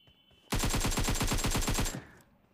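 A rapid burst of automatic gunfire in a video game rattles for about a second and a half, loud and close, then cuts off.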